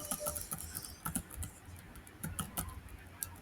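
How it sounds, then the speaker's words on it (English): Soft, irregular clicking of a computer keyboard being typed on, a quiet close-up patter of keystrokes in uneven bursts with no voices. "let's say I'm just typing here"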